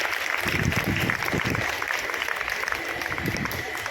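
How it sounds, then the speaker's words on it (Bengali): Audience applause at a press club journalism award ceremony in Kolkata, a dense steady burst of clapping from a roomful of people, close and sustained, with a voice faintly underneath. "আর অভিজিতের এই দারুণ কাজের জন্য একটা জোরে হাততালি"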